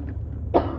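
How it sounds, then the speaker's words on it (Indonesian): A single short cough bursts out partway through, close and fairly loud, over a steady low room hum in an indoor talk setting. "Batuk dia."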